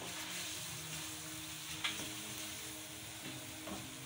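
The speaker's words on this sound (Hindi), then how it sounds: "अब हम इसमें डाल देंगे ये धनिया और जीरा जो भून के हमने कूट के रखा था" Ground roasted coriander and cumin go into a sizzling pan for white karahi, giving a steady, close frying hiss with a couple of faint stirring scrapes.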